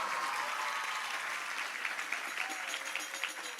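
An audience at a school Maulid Nabi and Hari Santri celebration in Magelang breaks into steady applause, many hands clapping together and gradually thinning toward the end, with faint voices mixed in.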